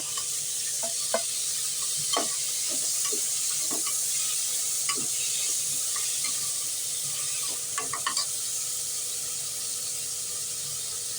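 Tomato and garlic frying in a pan for a yam and tamarind curry, a steady close sizzle broken by scattered clicks and scrapes of stirring, with no talk.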